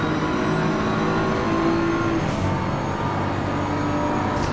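Engine of the number 66 BMW GT3 race car at the start of a GT3 championship round at the Nürburgring in a racing game, a steady loud drone with a held tone, joined by other cars throughout.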